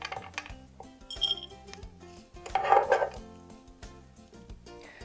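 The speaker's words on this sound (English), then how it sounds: "I'm going to put the green beans in a dish" Green beans are shifted into a serving dish with clinking cutlery and scraping against the dish, a run of close, irregular taps and knocks, louder in the middle.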